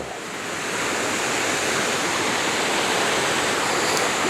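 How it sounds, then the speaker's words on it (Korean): Steady, dense rushing of a mountain stream on a Jirisan trail toward Cheonwangbong, fading in at the start and then holding even and full, with no voices. "이렇게 물소리도 들으면서"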